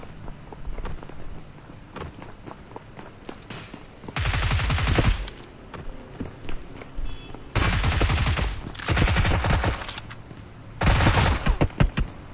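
Video game gunfire comes in three loud bursts of rapid automatic shots, each lasting a second or two, separated by quieter stretches of faint in-game clatter and footsteps.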